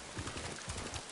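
In the samurai game Ghost of Tsushima, a horse trots over open terrain with a quick run of soft, muffled hoof clops in an uneven rhythm, faint and brief.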